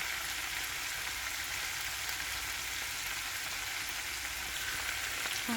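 Minced pork and basil leaves stir-frying in a hot pan give off a continuous, even sizzle at moderate loudness, close up and without any voices.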